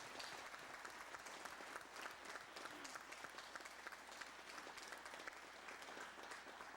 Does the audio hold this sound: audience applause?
yes